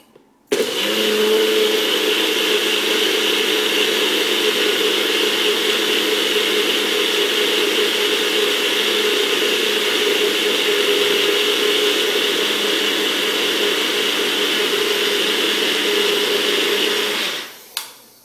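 A NutriBullet blender whirs loudly and steadily as it mixes a smoothie, running at a constant high pitch for about seventeen seconds before spinning down and stopping, with no one talking.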